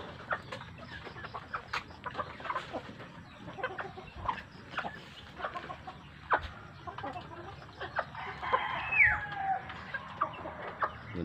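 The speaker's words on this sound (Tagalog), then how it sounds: "May mga alagang manok dito." Farm chickens in Batangas cluck and murmur close by in a busy, uneven chorus, with scattered sharper calls and a few brief rising squawks near the end.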